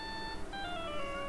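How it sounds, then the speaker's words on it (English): A cell phone ringing in the courtroom game Phoenix Wright: Ace Attorney, a faint steady electronic ringtone of sustained melodic tones that shift pitch partway through, alone without voices. "All of a sudden, the phone began to ring."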